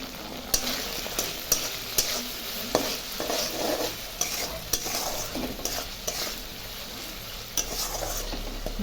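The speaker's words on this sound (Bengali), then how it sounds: "মশলাটা কিছুক্ষণ কষাবো" Spice paste with salt and turmeric sautés in a pan for a Bengali fish-head and cabbage dish, a steady close sizzle punctuated by regular scraping strokes of a spatula, roughly every second, with no talking.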